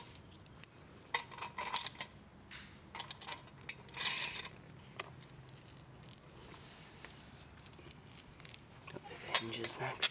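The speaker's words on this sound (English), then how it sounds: "1 washer on the inside, 1 washer on the outside, and then finger tighten the nuts" Small metal washers and nuts clink and jingle close up as they are fitted and finger-tightened onto bolts on the kick plates of a Darkstar Wedge Kicker skate ramp kit, irregular light metallic taps throughout.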